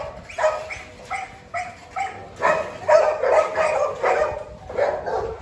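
A male Doberman at a kennel barks repeatedly in short bursts, loud and close, with yelps mixed in and no talk over it.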